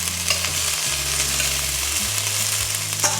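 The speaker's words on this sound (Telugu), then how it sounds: "ఒక ½ ఉల్లిపాయలాగా ఫ్రైడ్ ఆనియన్స్ చేసుకుంటున్నాను." Half an onion frying in oil in a pan for chicken pulao, a steady close sizzle with stirring scrapes and clinks throughout, no voices.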